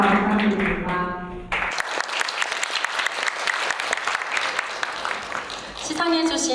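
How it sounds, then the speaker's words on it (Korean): Audience at a university debate competition final gives loud, sustained applause for the award-winning team, dense clapping filling about five seconds between stretches of a voice over a microphone. "입상한 팀에게 다시 한번 큰 박수 부탁드립니다"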